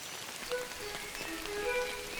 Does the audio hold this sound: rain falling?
yes